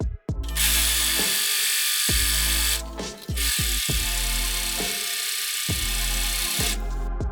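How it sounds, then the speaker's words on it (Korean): An overlock serger runs along the top and bottom edges of blouse front, back and sleeve fabric panels, loud rapid mechanical stitching in bursts that stop and restart several times, close up. "앞판과 뒷판의 윗단과 밑단, 그리고 소매 윗단을 오버럭 해줍니다."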